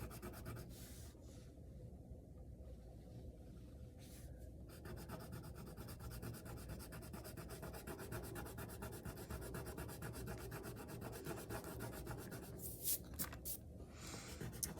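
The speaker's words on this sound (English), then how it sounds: "coloring this in the best that I can" Colored pencil or marker rubbing steadily across drawing paper while coloring in a winter fox picture, a close, continuous scratchy shading sound with brief louder strokes, no talking.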